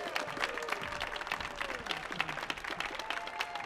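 Audience applause at a Millennium Stage performance, a brief burst of clapping from a crowd at moderate level with some cheering mixed in.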